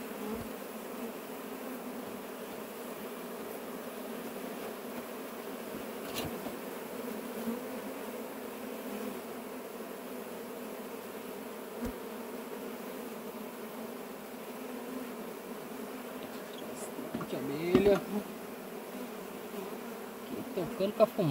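Honeybee swarm buzzing steadily inside a wooden stump during capture near a house, a dense continuous hum held close throughout, with a few knocks and handling bumps breaking through near the end.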